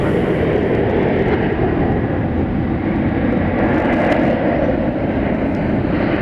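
An Airbus A380 in Peacock livery at DFW Airport at night, its engines giving a broad, steady, loud roar that holds without a break, with no voices over it.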